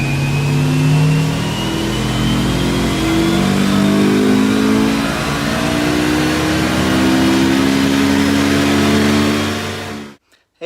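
A Honda S2000 with 218,000 miles, running on only three cylinders, revs on a dyno in one long sustained pull, its loud, close engine note climbing steadily before cutting off abruptly near the end.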